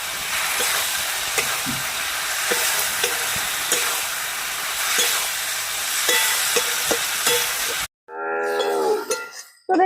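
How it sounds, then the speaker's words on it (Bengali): Fried potatoes are stirred into cooked masala in a pan for a rohu fish curry, a steady loud sizzle with repeated spoon scrapes and taps, ending in a brief silence and a short burst of sound. "এবার দিয়ে দেবো ভাজা আলু দিয়ে দিচ্ছি ভাজা আলুগুলো"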